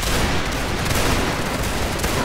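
A line of infantry fires a musket volley in Mount & Blade Napoleonic Wars, a dense, loud crackling roll of many overlapping shots sustained throughout with no break.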